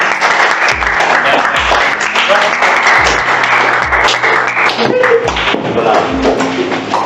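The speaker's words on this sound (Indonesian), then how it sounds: "Tepuk tangan dulu buat teman." Classroom applause for a presenting student group, a close, loud patter of many clapping hands mixed with a few low thumps, steady throughout with some chatter underneath.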